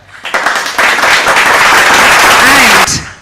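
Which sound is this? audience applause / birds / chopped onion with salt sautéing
audience applause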